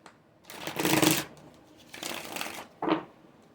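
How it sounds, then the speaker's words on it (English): Tarot cards being reshuffled by hand, two longer riffling bursts followed by a short quick one, close and clear against near silence. "Reshuffle, do all this."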